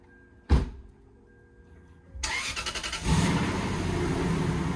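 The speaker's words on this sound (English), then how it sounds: "So I guess it's a cold start." A sharp thump, then after a pause a Lexus SC300 engine with a finished custom exhaust cranks on a cold start and catches, settling into a loud steady idle with a brief rev.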